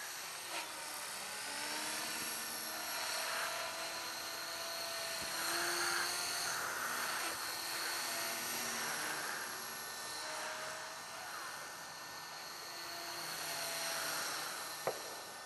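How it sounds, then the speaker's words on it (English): A T-Rex 450 electric radio-controlled helicopter flies overhead, its high-pitched motor and rotor whine holding steadily and swelling as it passes nearer and farther, moderately loud with no talk. "Here's Dave Puppin flying his T-Rex 450 electric chopper"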